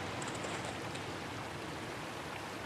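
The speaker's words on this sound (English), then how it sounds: "That is running water." Running water in a snowy pine forest, a soft continuous trickling rush at an even moderate level, heard alone without voices.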